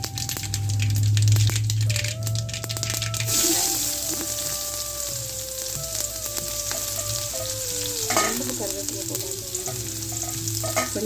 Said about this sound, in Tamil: இப்போ ரசம் வச்ச பாத்திரத்துலேயே நம்ம கூட்டை தாளிச்சு விட்டுடலாம்